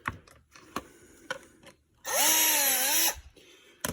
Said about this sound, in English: So when you drill bit in, it's right down the middle.